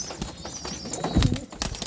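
Pigeons being put into their coop, with brief wing flaps, shuffling and light knocks nearby against a busy background, over about two seconds.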